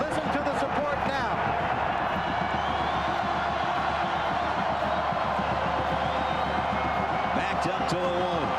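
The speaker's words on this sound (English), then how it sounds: "I have not been down here on the football field to hear this crowd this loud in a number of years" A big college football stadium crowd at Florida State's home game against Maryland roars continuously and loudly, a dense wall of cheering with whistles and shouts, while a commentator talks over it.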